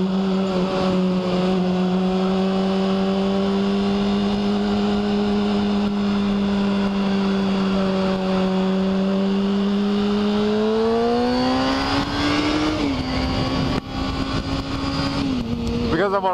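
Sport motorcycle engine, a KTM RC8 or BMW S1000RR, holds a steady drone while riding, then revs climb and shift near the end, loud and continuous under wind noise with occasional talk over it.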